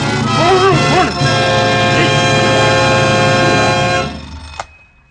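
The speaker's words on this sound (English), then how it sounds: "Turn it off, will you? Turn the alarm!" Continuous metallic ringing of an alarm bell in an old 1950s-60s radio crime drama, loud and sustained under a shouting voice, then cut off abruptly near the end with a sharp click.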